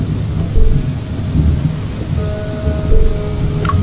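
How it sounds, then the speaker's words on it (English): In the video game Beautiful Desolation, heavy rain pours steadily during a storm while low, rumbling thunder rolls underneath, loud and close, with no talking. "this rain is bucketing down now"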